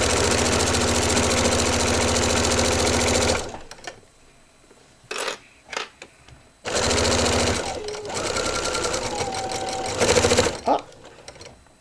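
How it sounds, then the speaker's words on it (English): Sewing machine running a quarter-inch seam along scrap fabric, loud steady buzzing bursts that stop and restart, with quiet gaps and brief handling noises between stitching runs. "I'm just going to sew 1/4 inch seam allowance all the way down."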